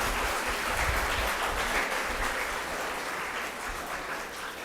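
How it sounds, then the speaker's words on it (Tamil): Audience applause at a Tamil thinking-forum celebration, honoring a young speaker; a dense, steady wash of many hands clapping throughout, fairly even in loudness with no talk. "நல்லா பலத்த கைத்தட்டல்"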